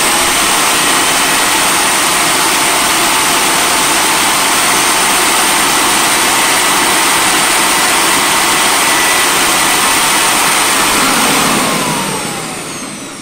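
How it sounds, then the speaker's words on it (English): A small motor spinning at high speed gives a loud, steady whine close by that holds nearly constant, then tapers off and drops away near the end. "I hope you were able to hear the motor speed go up just a little bit"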